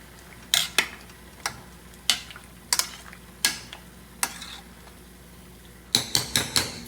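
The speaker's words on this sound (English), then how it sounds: "Mix it around because it's boiling" Metal spoon clinking and scraping in a pot of boiling cauliflower on the stove, a dozen sharp taps spaced irregularly with a quick cluster near the end, faint simmer beneath.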